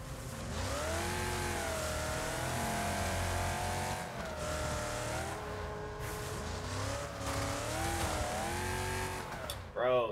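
A race car in Wreckfest on Xbox Series X drives with a steady engine drone, its pitch rising and falling through gear changes and turns, loud and close, while a person talks over it at times.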